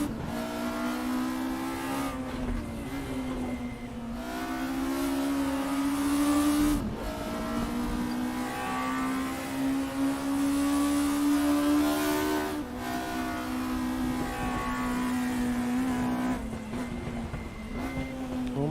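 VW Scirocco race cars lap Brands Hatch in a racing video game: a loud, steady engine whine climbs in pitch, drops sharply at each gear change, then climbs again. It runs continuously with no voices.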